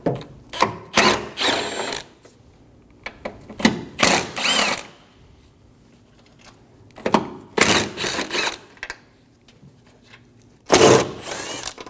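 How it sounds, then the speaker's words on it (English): A power tool with a 10mm socket spins bolts off during intake manifold work on a 2008-2015 Scion xB 2.4L four-cylinder, in several short whirring bursts up close with quiet pauses between them. "Using a 10mm socket, we're going to remove all of the bolts for the plate."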